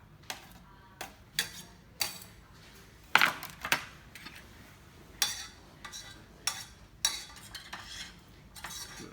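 Miso soup with seaweed stirred in a pot, a spoon knocking and scraping the sides in irregular clinks spaced a second or so apart, close and fairly loud.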